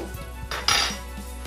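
Two tablespoons of chia seeds drop into a glass in a kitchen, making a short burst of light rattling and clinking that lasts under a second. The moment is otherwise quiet.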